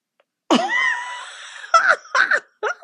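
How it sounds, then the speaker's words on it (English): A cat lets out a long, drawn-out yowl followed by several shorter, harsh meows, loud and close, with no one talking. "What is going on out there with the cat meowing so angrily?"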